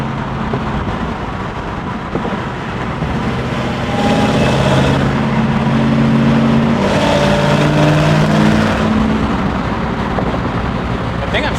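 A 1968 Camaro SS restomod's supercharged 650 hp LT4 V8 drones steadily while driving, swelling in two louder throttle surges with supercharger whine over the low rumble.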